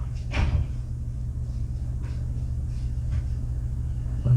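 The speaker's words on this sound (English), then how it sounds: "Neighbors slamming doors," Neighbors slam doors nearby while someone films indoors: one muffled thud near the start, then a couple of fainter knocks over a steady low hum.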